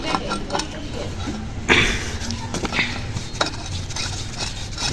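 A metal water pipe fitting on a hand pump line being tightened, with scattered metallic scrapes and clanks over a steady noisy background, fairly close, no speech.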